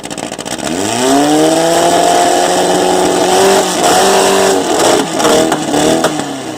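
A Volkswagen Beetle with a stinger exhaust revs hard at an engine sound contest, rising quickly into a loud, sustained high-rpm roar that wavers before easing off, close and dominating with no speech.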